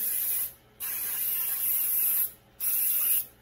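Two long bursts of aerosol baking spray with flour hiss steadily onto a cake pan, each lasting over a second, close by with brief pauses between them.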